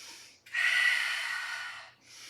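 A single deep belly breath drawn in slowly and steadily, close and soft, lasting over a second with no talking, during a gentle movement practice.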